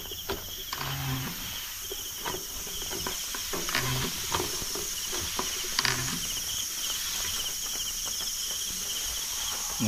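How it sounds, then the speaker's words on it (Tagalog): Insects chirp at night around an ampalaya plot, a steady high-pitched cricket drone running throughout with scattered faint rustles and bumps nearby. "Nagising yung mga insekto, nabulabog."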